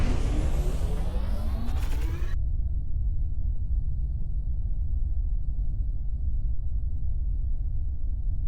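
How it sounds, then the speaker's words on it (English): Spaceship landing gear retracting in the space game SpaceBourne 2: rising mechanical whirring tones cut off abruptly after about two seconds, leaving a loud, steady low engine rumble. "Landing gear retracted."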